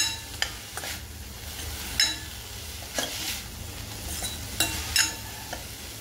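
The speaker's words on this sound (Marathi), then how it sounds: "ह्याला आता मी वरतून थोडंसं खोबरं घालणार आहे आणि ती चांगली मिक्स करून घेणार आहे." Amaranth leaf vegetable dish being stirred in a pan after grated coconut goes in, with a soft steady sizzle underneath and several sharp scraping and clinking strokes of the spoon at irregular intervals, close by, no talking.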